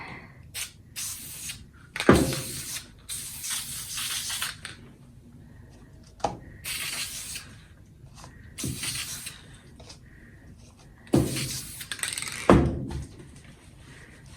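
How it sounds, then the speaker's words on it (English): Krylon Color Master black satin spray paint hissing onto a jar lid in several separate bursts, some short and some sustained for a couple of seconds, close up and loud, with no talking. "get some Krylon Color Master in black in satin, and you're just gonna spray it."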